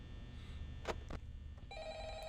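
A telephone rings in the horror video game Five Nights at Freddy's, with a faint ringing tone starting near the end after a couple of brief louder sounds.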